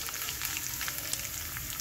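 Arhar dal frying in oil tempered with bay leaf, dry red chilli, five-spice and cumin, giving a dense, even crackling sizzle with small pops throughout, close and steady.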